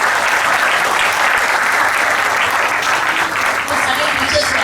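Audience applause at a school Grandparents Day event after a children's play, a steady, dense wash of clapping from a large crowd that holds at full strength for the whole stretch.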